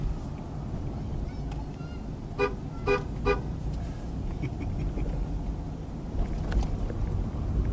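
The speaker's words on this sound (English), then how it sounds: "We've got to honk for the kids." A few short horn honks sound in quick succession, moderately distant, over a steady low rumble of engine and wind.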